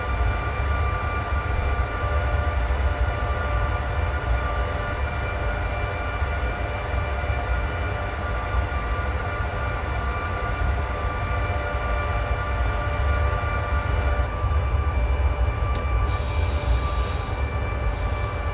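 A Regional Express train passes in Train Simulator 2020 on the S-Bahn route from Leipzig to Bitterfeld, giving a steady low rumble with a faint humming drone that holds evenly and ends with a brief higher hiss.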